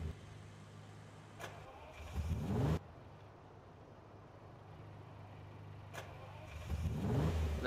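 Car engine in Farming Simulator 19, a supercar at a dealer, starts up and revs twice with short rising bursts over a steady idle hum, fairly quiet and close.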